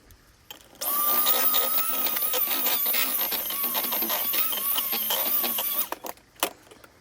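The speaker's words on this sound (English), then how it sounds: "Then you're just going to want to mix that up with the hand mixer." An electric hand mixer beats butter, eggs and vanilla into pizzelle cookie batter, a steady close motor whir with a slightly wavering whine that runs for about five seconds and then cuts off, followed by a couple of light knocks.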